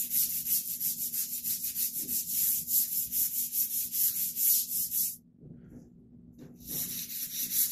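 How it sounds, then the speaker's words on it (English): A grout brush scrubs the grout lines of a marble floor in a hotel bathroom with steady, rhythmic back-and-forth rubbing strokes, close and clear, then stops for a short pause before the scrubbing briefly resumes. "You're going to take your grout brush."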